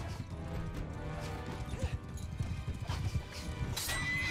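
Horse hooves clatter in a galloping clip-clop rhythm while a horse whinnies, amid clashing combat sounds in the Mount & Blade 2: Bannerlord video game, steady and moderately loud throughout.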